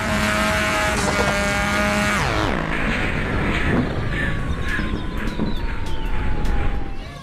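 A toy racing motorcycle gives out a loud electronic engine sound. The pitch holds, then drops sharply after about two seconds, and the engine whine carries on with some clicks.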